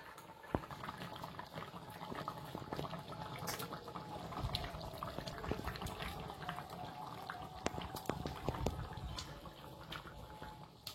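Fish slipped into a simmering curry in a pan, a dense continuous bubbling and spluttering with sharp crackles throughout, close and fairly quiet, no voices.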